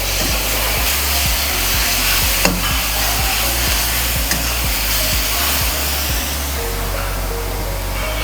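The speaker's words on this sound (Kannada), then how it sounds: "ಈಗ ಟೊಮೆಟೊ ಬೇಯಲಿ ಅಂತ ಒಂದು ಸ್ವಲ್ಪ ಉಪ್ಪು ಹಾಕ್ತಿದ್ದೀನಿ ಸರ್" Tomatoes fry in a pan in a hotel kitchen cooking with cold-pressed oil, with salt added. A steady loud sizzle carries on throughout, with a couple of brief knocks and no talking.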